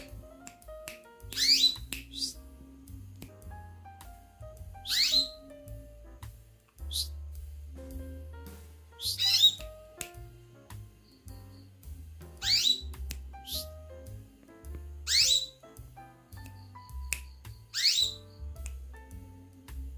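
Pet birds, including a sogon, canaries and a coconut hummingbird, whistle in short bright bursts every few seconds, spaced fairly evenly, with soft clicks and low shuffling noises between them and no talking.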